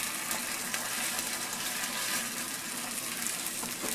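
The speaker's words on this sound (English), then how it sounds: "this is basically water going into the oil" Water poured into hot oil in a pan, a loud, dense, continuous sizzle and crackle holding steady throughout with no talk.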